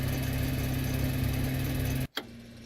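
Electric fuel boost pump running in an Aerostar 601P in X-Plane 12, a steady mechanical hum that cuts out abruptly near the end and resumes at a lower level.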